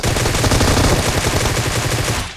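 Rapid automatic gunfire in the PUBG Mobile video game as enemies are shot: a loud, dense, continuous burst of shots that cuts off abruptly at the end, with no talking over it.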